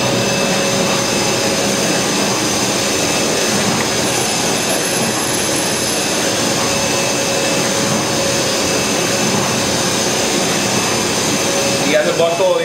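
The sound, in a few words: wine bottling machine with carousel conveyor running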